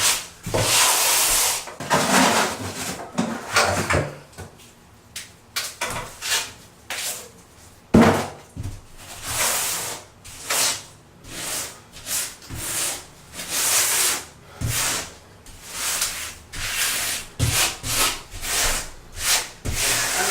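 Grout float rubbed across shower wall tile in repeated, rhythmic swiping strokes going in multiple directions, a close, soft scraping hiss with brief gaps between passes.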